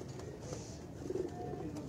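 Pigeons, including rare pearl-marked birds of an old breed, coo softly on a Karachi rooftop, a low murmuring coo rising briefly near the middle against a faint, steady outdoor background.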